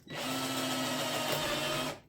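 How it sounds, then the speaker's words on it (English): A power drill whines steadily and loudly up close, grinding continuously through two stacked 2x4 wooden boards for about two seconds before stopping. "That's not the right drill to be using either to drill holes through two 2x4s"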